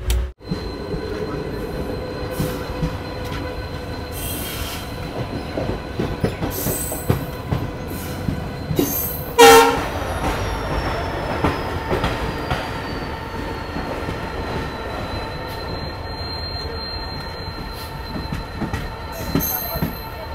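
A GHY-LEDO Intercity passenger train runs steadily with rumbling wheels and carriage noise, a brief loud burst near the middle and a long sustained horn-like tone through the second half, heard from on board with no talk.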